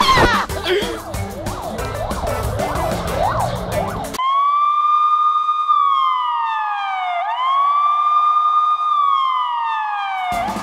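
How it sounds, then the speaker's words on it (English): A wailing police siren sound effect in a Russian hard bass track made in FL Studio 20 rises and falls in long sweeping tones, clear and loud, following a busier musical passage at the start. "And for the ambience I added a police siren."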